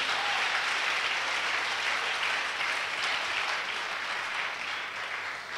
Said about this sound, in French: Acclamons le Seigneur encore